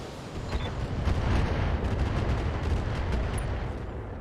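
Mech weapons firing at an enemy torso in the BattleTech video game, a dense roar of booming gunfire and blasts that swells early and rumbles on steadily throughout.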